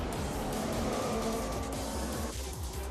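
Race cars at the start of a race in the F1 2015 video game on a Russian circuit, a dense, loud, continuous roar of engines with tire noise blending together throughout.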